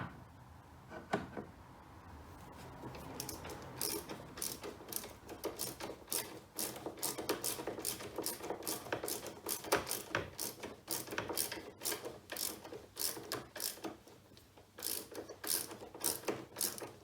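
Ratcheting a Torx T25 screwdriver to unscrew screws from a Porsche Panamera 970 rear door B-pillar trim, a long run of close, quiet rapid clicks in bursts.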